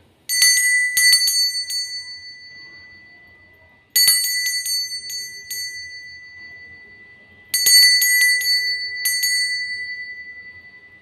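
Three bright bursts of rapid bell dings, each ringing out and fading before the next, loud and close with near silence in between.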